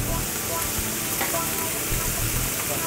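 Tomato paste hits a hot pan and sizzles steadily, a loud, continuous frying hiss with soft stirring scrapes underneath.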